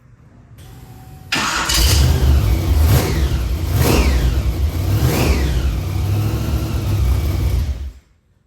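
An Austin Ruby's engine cranks briefly, catches and fires, then runs loud and close with a rough, uneven rhythm and a few revs over about six seconds before cutting off.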